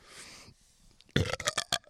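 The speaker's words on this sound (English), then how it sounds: "That was some Chipotle chip burp." A person lets out a loud, close burp after eating Chipotle chips, a rough belch broken into several pulses that rises out of quiet background noise.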